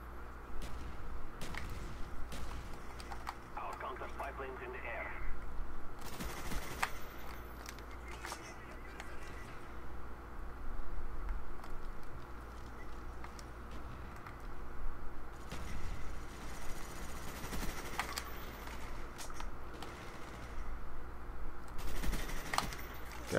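Gunfire in Call of Duty Black Ops, with sharp shots and short bursts cracking at irregular intervals over a steady game background, and a player's voice talking at times between the shots.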